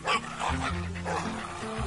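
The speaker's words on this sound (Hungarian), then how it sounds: "De ennek a végén egy kutya van." A cartoon dog gives a few short, yappy barks and whimpers in an animated children's story about a bear, the barking close and fairly clear.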